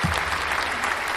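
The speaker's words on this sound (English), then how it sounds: "Round of applause for the haterade." A round of applause from an audience during a podcast show, dense steady clapping throughout the short burst, fairly loud and close with no voices over it.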